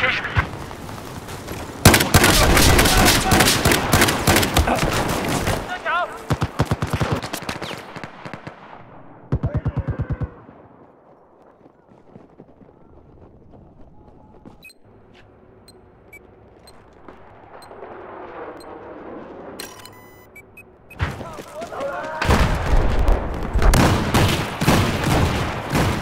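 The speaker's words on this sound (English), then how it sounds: "I have eyes on a hostile machine gun just north of your location." Gunfire from a Battlefield 4 match, loud dense bursts of shots and blasts opening and closing the stretch, with a quieter middle holding faint scattered shots and low rumble while a voice talks over it.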